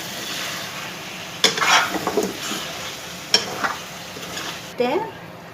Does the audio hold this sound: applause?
no